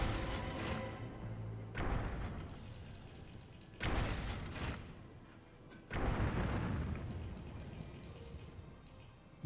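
Siege weapon firing explosive bolts in Dragon's Dogma, three heavy booming impacts spaced a couple of seconds apart, each a loud thud with a rumbling decay, separated by quieter stretches.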